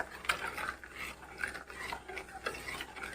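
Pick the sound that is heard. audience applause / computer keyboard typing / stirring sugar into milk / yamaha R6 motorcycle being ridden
stirring sugar into milk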